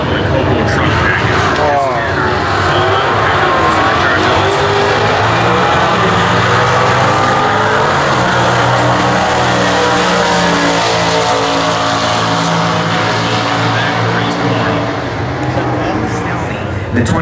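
Chevrolet COPO Camaro stock drag race car at the 2014 US Nationals, a loud continuous engine roar with revving tones throughout, heard under an announcer's voice and crowd ambience.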